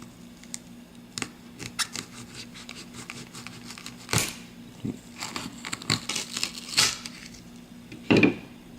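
A knife slices open a firm, heavy mystery pepper, giving a few sharp crunchy cracks and splitting snaps spread across the cut, with a loud final crack near the end against quiet background.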